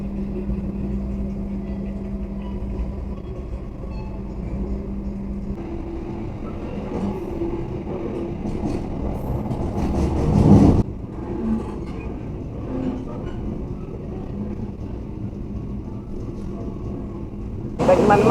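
The Taksaka train rolls into Cirebon station with a steady low rumble and faint rail clatter under continuous talking, and a louder thump and jolt is heard midway.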